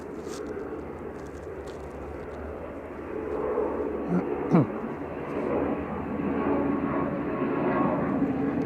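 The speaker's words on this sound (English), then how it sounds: "Aer Lingus Regional, heading back to Belfast here, flight 3619" An Aer Lingus Regional airliner departs Manchester Airport for Belfast, a low, distant engine drone that grows gradually louder over several seconds, with voices talking nearby.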